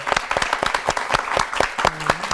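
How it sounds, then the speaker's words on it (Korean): Hand clapping from a church lecture audience, a steady round of fairly close, sharp claps that stays loud throughout with a brief murmur of voices near the end. "우리 박수 한번 해야 되잖아요."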